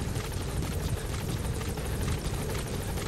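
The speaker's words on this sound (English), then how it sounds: "Support helicopter has arrived." A helicopter in Metal Gear Solid V: The Phantom Pain arrives, its steady, loud rotor thrum and engine roar filling the whole stretch, continuous and close with no pauses.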